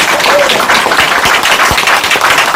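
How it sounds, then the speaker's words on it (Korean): An audience at an indoor event exhibition applauds four speakers after their greetings, a dense, steady wash of many hands clapping at close range that holds for the whole moment. "이 좋은 말씀 주신 네 분께 다시 한번 큰 박수 부탁드립니다."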